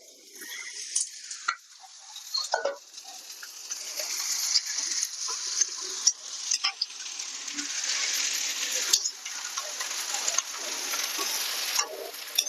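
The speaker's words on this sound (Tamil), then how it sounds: "எண்ணெய் காஞ்சிச்சு, நம்ம வந்து பிரண்டையை கொட்டிக்கலாம்" Pirandai (veld grape) tipped into hot sesame oil for pickle: a close, steady sizzle and crackle with scraping stirs and bursts of spatter, mostly constant throughout.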